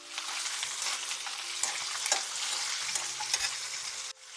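Curry leaves crackle and spit in hot oil, a loud close sizzle with scattered sharp pops over several seconds, cutting off abruptly near the end; no one speaks.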